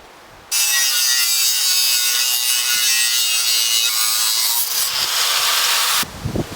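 Close, loud, continuous rasping as a saw cuts through knife handle material in long steady strokes, ending abruptly with a few light knocks, no voices.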